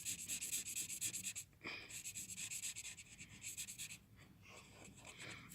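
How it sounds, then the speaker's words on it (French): A marker colors on paper with quick, rhythmic back-and-forth scratching strokes, close and steady, pausing briefly a few times. "Donc nous continuons à colorier, voilà."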